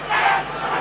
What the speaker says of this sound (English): Crowd getting behind Benn.